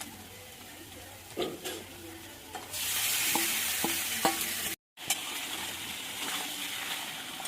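Chicken pieces tipped into browned, fried onions in a pan and stirred, giving a steady close sizzle with sharp scraping stir strokes, a brief drop near the end, then sizzling resumes.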